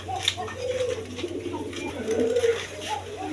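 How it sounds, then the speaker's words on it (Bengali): Pigeons coo at a seller's stall in a pair offered for sale, a low murmuring coo repeating through the clip over steady background hum and faint voices. "দেখেন কোয়ালিটিফুল কবুতর"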